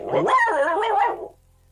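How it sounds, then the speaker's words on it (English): A dog barks in one drawn-out, rising and falling bark-whine lasting over a second, close and loud in a quiet room, then stops, with no talk. "Timmy can bark as much as he likes now."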